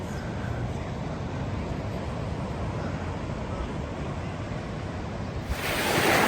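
Steady broadband wash of ocean surf at a black sand beach on Hawaii's Big Island, continuous and fairly even, with a louder hiss rising near the end, likely a wave or wind gust.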